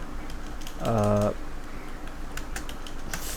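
Quiet clicks of typing on a computer keyboard tap out a short word in a small cluster, joined by a brief tonal sound near the start.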